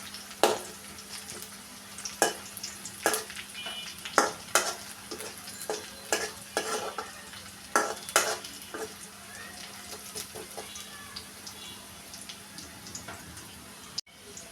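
Onions frying in mustard oil, with a soft continuous sizzle under repeated sharp scrapes and knocks of a spoon stirring in the pan, spaced irregularly over several seconds, close up and without speech.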